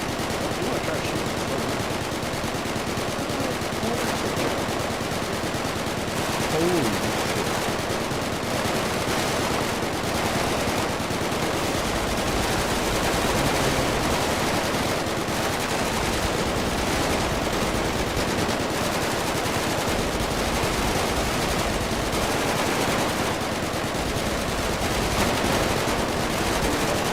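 Rapid automatic gunfire and repeated shots from guns in a video game, dense and continuous throughout with loud, sustained bursts, while people talk intermittently underneath.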